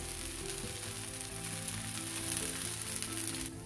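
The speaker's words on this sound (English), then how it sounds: "Now we'll flip this to the other side and roast it the other side as well." Puffed rice (murmura) dosa roasting in oil on a hot pan after being flipped, a steady close sizzle and crackle that runs continuously with no talk.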